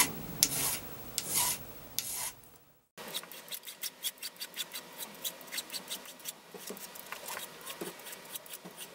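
Hand file rasping along the edge of a wooden rubber band gun to shape it, a few slow strokes, then a short pause and a run of quick, even scraping strokes close by, no talking.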